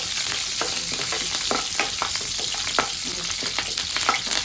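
Whole spices (a cinnamon piece, a clove, a small star anise) and curry leaves sizzle in hot oil on a stove while making paneer curry, a steady loud frying hiss with crackling pops and stirring, no voices.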